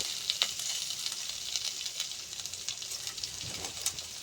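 An egg green masala fries gently over a low flame, giving a steady soft sizzle with occasional light stirring scrapes, close and alone with no talking.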